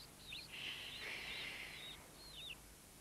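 Newly hatched blackbird chicks in a nest up in a garden shed give faint, thin chirps, a few quick high calls heard from a distance over quiet background hiss.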